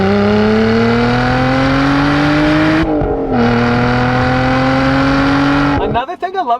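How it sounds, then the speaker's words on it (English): A supercharged V12 supercar engine revs hard through an open GRP Valvetronic exhaust, rising steadily in pitch, dipping briefly, then climbing again before cutting off sharply. "Another thing I love about this GRP exhaust, it's a Valvetronic exhaust"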